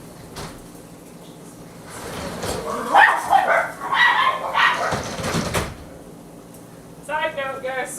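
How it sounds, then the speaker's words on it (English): Dogs bark in a home kitchen, sounding as a cluster of sharp barks of moderate loudness in the middle and a few more toward the end, with someone talking nearby. "sorry about the barking."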